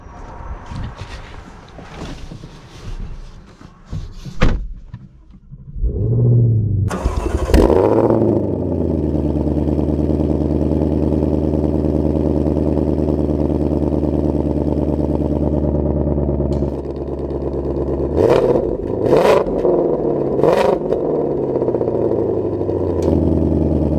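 A Ford Shelby GT500 fires up after a few clicks and knocks, its engine catching with a loud burst, then settling into a strong, steady idle that swells into brief sharp revs near the end.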